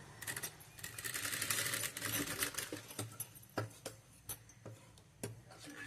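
A sewing machine stitches a neck piece in a tailoring lesson, running in a fast close rattling burst, then slowing into separate ticking stitches and clicks.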